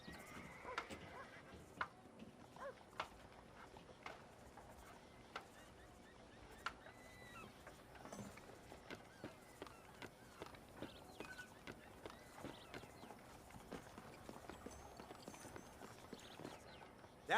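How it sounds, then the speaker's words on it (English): Horses in the Red Dead Redemption video game: steady hoof clip-clop runs through the whole stretch with an occasional whinny, set against a busy western street ambience and some faint background voices. "You see those horses to the left by the building across the street?"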